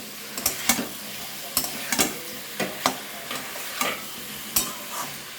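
Fried potato and ridge gourd are stirred into sizzling spices in a pan. A ladle scrapes and taps against the pan at a steady, fairly quick rhythm over a constant close frying hiss, and no one speaks.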